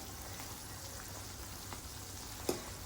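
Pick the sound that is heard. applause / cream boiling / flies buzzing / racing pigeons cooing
cream boiling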